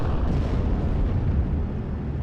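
German 88 gun in Steel Division: Normandy 44 firing high-explosive shells at assault pioneers, a dense rumbling blast that rolls on continuously without pause, low and heavy with no talking over it.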